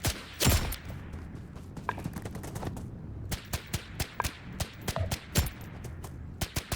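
Gunfire in the video game BRM5, bursts of rapid sharp shots followed by a string of single cracks at uneven intervals, fairly loud and close with no talking.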